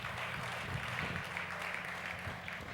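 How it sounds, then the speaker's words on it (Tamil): A church congregation at a Sunday service claps together, a sustained mass of hands heard somewhat distant and soft in a reverberant hall, steady throughout without talk. "கைத்தட்டுங்க பார்க்கலாம்."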